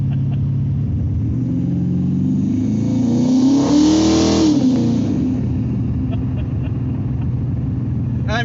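A 1964 Dodge 330 with a Max Wedge engine rumbles loudly at light throttle while driving through a parking lot, swelling briefly in a rev midway before settling back to a steady, heavy burble.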